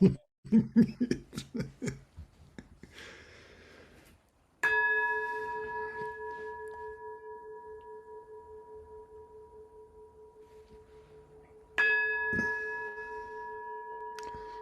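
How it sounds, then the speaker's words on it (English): A few seconds of someone talking give way to two resonant strikes of a temple bell during a Sunday Zen gathering, each ringing out and decaying slowly over several seconds. "Sound of the temple bell."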